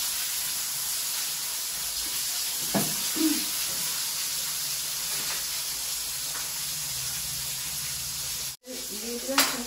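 Flowers and green chillies dropped into hot oil, a steady loud hissing sizzle close by with a few brief clatters and a short interruption near the end.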